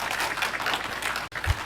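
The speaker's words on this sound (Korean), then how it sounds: "우리 박수로 환영하겠습니다." A church congregation claps to welcome a visitor, a short burst of steady massed applause with a brief dropout near the end.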